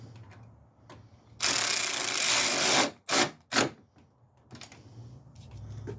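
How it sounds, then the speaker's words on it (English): Ratcheting on the final engine mount bolt of a 2003 Ford Focus: a loud burst of rapid ratchet clicks lasting over a second, then two shorter bursts, with quiet mechanical handling before and after. "This is the final bolt in."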